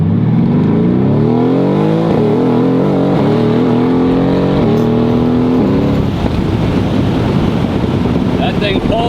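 A straight-piped Ferrari F50 engine revs hard, its rising harmonic howl climbing and holding near red line for several seconds before breaking into rough wind-buffeted roar as the car pulls, close and very loud.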